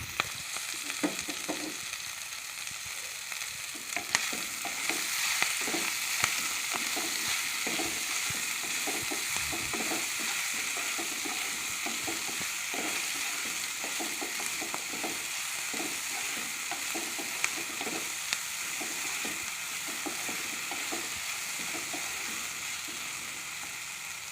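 Chopped vegetables, lightly seasoned with a little turmeric, sizzle steadily over a low flame for spring roll filling, with frequent scraping stirs of a spatula through the pan; continuous, close and without any talking.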